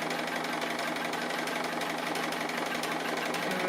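A sewing machine stitching a tree appliqué quilt block, a steady close whirring hum with a fast even mechanical patter, running continuously and alone.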